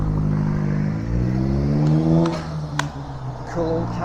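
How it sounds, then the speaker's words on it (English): Old 1950s-style car driving past in a town street, a loud steady engine rumble with a rising, shifting tone as it passes close by. "Cool old car."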